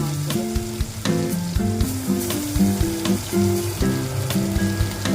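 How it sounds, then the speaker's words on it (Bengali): Loud, crackling sizzle of prawns frying in hot mustard oil, punctuated by stirring scrapes, with a melodic tune playing underneath. "হালকা করে ভেজে নেবো"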